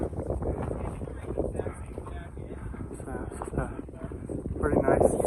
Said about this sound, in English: We're still exposed, so we're getting some wind